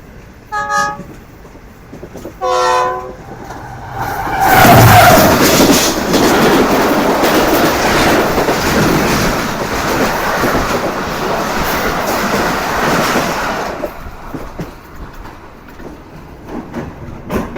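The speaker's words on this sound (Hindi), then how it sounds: "और ये शायद डाउन में भी कोई ट्रेन आ रही है इस वक्त बिल्कुल हमारे सामने से" The 48 Down Rehman Baba Express, running between Peshawar and Karachi, sounds two horn toots and then roars past close by with loud, sustained rumbling and clatter that fades at the end.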